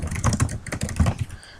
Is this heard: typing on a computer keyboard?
yes